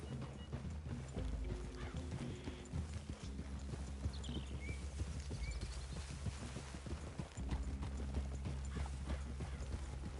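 Steady clip-clop of several horses' hooves walking in a video game, close and continuous, with a brief whinny and low rumbling background.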